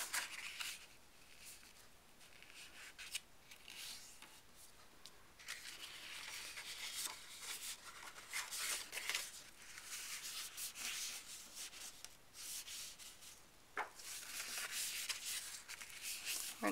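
Paper being accordion folded for a Stampin' Up! mini album, with repeated dry rubbing and creasing swipes, soft crinkles and brief sharp scrapes, close and fairly quiet, without talking.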